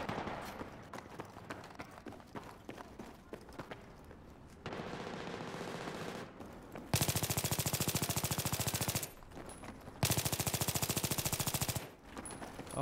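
Rapid automatic gunfire in Battlefield 3, loud sustained bursts firing in two long volleys after a quieter stretch of shooting and game noise, with no talking.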